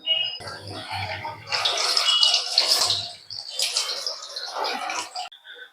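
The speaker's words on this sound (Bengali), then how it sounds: "চলো ধুয়ে নিই।" A large black palm fruit is washed under water, producing close, irregular splashing and trickling that comes in bursts with brief pauses, fairly quiet overall.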